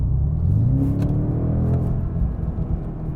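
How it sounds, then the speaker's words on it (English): A 2025 BMW M5's V8 engine is accelerating: a deep, loud rumble whose pitch climbs steadily as the revs build, close and continuous. "I engage that V8, and I just put my foot down"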